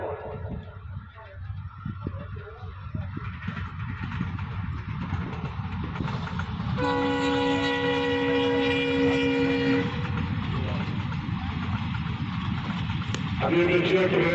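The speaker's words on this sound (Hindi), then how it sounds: "अभी देखिए ट्रेन गुजर रही है" A train rolls steadily past a tap-ball cricket ground, its wheels rumbling and clattering throughout. A loud horn blasts for about three seconds, and a second short blast comes near the end. A commentator talks over the noise.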